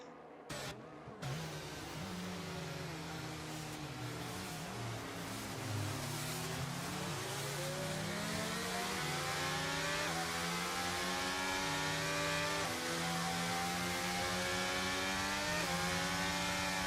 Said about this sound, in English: Safety car picking up speed here in Sector 3.